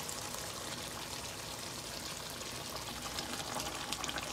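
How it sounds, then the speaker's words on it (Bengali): Boiling water, about one cup, is poured into a pan of egg curry, giving a steady, close rushing pour that builds slightly toward the end, with no talking. "ঠিক 1 কাপ মতন জল দিয়ে দিলাম"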